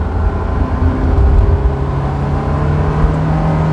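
A Honda S2000 sports car is driven hard, its engine revving loud and close in a steady, sustained drone for a few seconds, with no talking.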